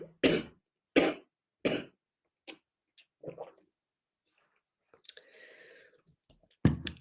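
Three sharp coughs close up in quick succession, then a few softer throat sounds and a final cough after a short pause.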